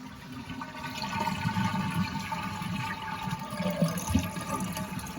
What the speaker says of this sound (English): we'll flush the toilet to remove the water in the tank